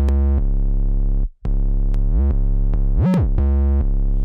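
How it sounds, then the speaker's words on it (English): A deep, gritty 808 bass distorted with a Decapitator plugin plays a melodic line of sustained notes with pitch glides, one brief dropout midway, loud and upfront. "I added a decapitator to the 808"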